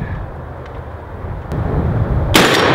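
A single gunshot fired at an outdoor range cracks sharply near the end, following a couple of seconds of quiet outdoor ambience with no voices.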